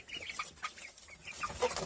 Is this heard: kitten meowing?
no